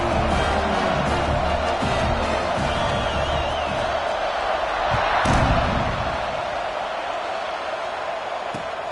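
A stadium crowd in the College Football 25 video game hums and roars in a steady, dense wash after a touchdown, with a brief swell of cheering and a few thuds rising out of the constant noise.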